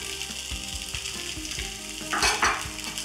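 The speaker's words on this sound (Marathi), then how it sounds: "करूयात मिक्स आणि झाकण न ठेवता ही खिचडी छान अशी परतून घेऊया" Sabudana khichdi with potato, salt and crushed roasted peanuts sizzles steadily in an uncovered pan, while a spatula knocks and scrapes against the metal in a loose rhythm and the frying swells louder near the end.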